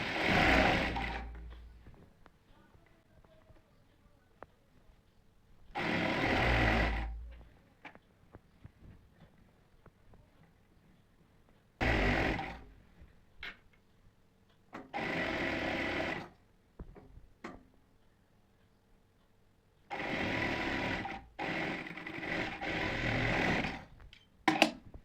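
A sewing machine stitches a cotton nighty in several loud, whirring bursts of rapid needle chatter, each a few seconds long, separated by quiet pauses with small clicks and handling sounds.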